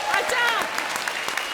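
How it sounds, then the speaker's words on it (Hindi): A live comedy show audience gives Kangana loud applause: brisk clapping with sharp individual claps, briefly overlapped by a speaking voice at the start. "और अब कंगना के लिए जोरदार तालियां।"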